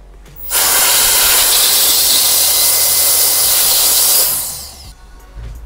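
A Mini Jet Violent Fan Turbo X1001 blowing through a narrowing nozzle gives a loud, close, steady rushing hiss for about four seconds, rising abruptly, then winding down with a falling whine.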